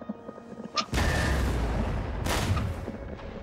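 Heavy cannon fire in the video game Empire: Total War during a Prussian battle at Warsaw, with a short crack followed by two loud booming volleys that roll on as a dense rumble, with no talk over it.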